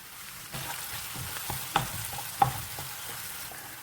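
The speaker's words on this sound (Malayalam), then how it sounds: "ചെറിയ ഗോൾഡൻ ബ്രൗൺ ആവുന്ന വരെ നന്നായിട്ട് മൂപ്പിക്കുക." Onions, ginger, garlic, green chilli and curry leaves frying in a pan for a Kottayam-style fish curry, heard as a quiet steady sizzle with a few sharp stirring clicks and scrapes of a utensil.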